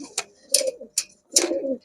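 A white beauty pigeon, a female, coos in three or four short, close bursts separated by brief pauses, each carrying a breathy hiss over a low throaty tone.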